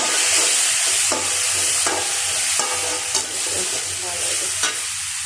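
Chopped tomato frying in hot oil in a pan, loud close sizzling broken by regular spatula strokes about once a second as it is stirred.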